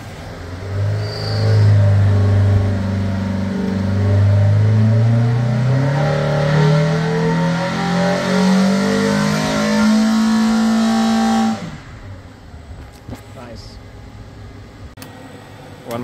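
An engine running on a SuperFlow 901 water brake dyno, loud and steady, its pitch climbing smoothly over a long pull before it cuts off abruptly to a quiet hum with faint clicks.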